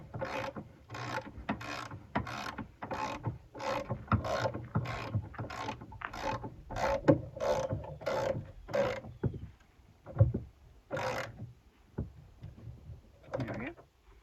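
A ratchet wrench clicks steadily, about a dozen rapid strokes in a regular rhythm, while working on a car in a junkyard. It then trails off into scattered clanks and handling noises, fairly close and moderately loud.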